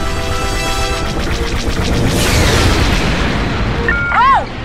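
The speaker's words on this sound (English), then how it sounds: "Satellite destroyed." A satellite blows up in Star Wars Battlefront II, a loud rumbling explosion with a long roaring tail over game sound, ending in a rising electronic whine.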